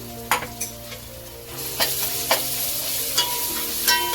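Coarsely ground spices sauté in a hot pan for dhaba-style methi malai paneer, giving a continuous sizzle with a few sharp stirring clicks and scrapes of a spoon.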